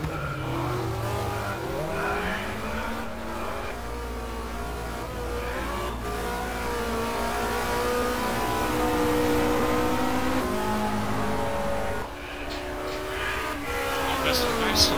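Opel touring car from the 1993 FFSA Touring season racing at Magny-Cours in the GTR 2 game, its engine note rising and falling steadily through gears with occasional tire squeal, with a voice talking over it throughout.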